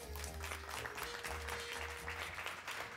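Steady applause from an audience at an awards ceremony fills the whole clip, dense and continuous clapping at moderate distance.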